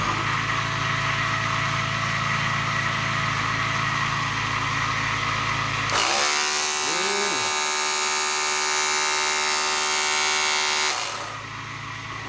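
A washing machine motor rigged as a homemade AC generator hums and whines steadily, then shifts midway into a higher, brighter buzz with sweeping pitch changes before settling back; loud and close, no talking.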